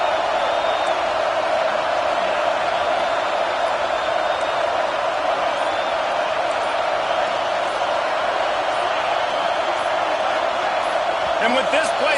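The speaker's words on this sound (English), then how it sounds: "And with this place rocking, the crowd forces a false start." A packed stadium crowd roars in the College Football 26 video game, a dense, loud, unbroken wash of cheering that holds steady throughout, with a few faint higher shouts.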